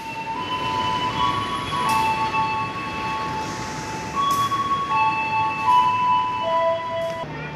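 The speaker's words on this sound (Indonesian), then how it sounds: "kedatangan kereta api Jana Express yang kemarin kita naiki ya teman-teman" A passenger train with a 9202 locomotive rolls into Ketapang station, Indonesia, with a steady rumble, high wheel squeals and tonal screeches sliding over the low clatter of the cars.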